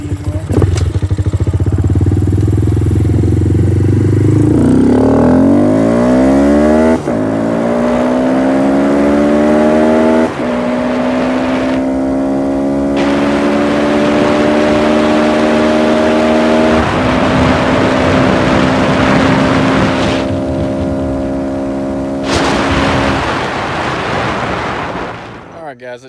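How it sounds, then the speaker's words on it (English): A Honda Grom motorcycle with a flashed ECU accelerates hard through several gears, its engine note climbing and dropping at each shift under loud wind rush, with brief spoken remarks along the way. "The good news, this bike pulls really strong."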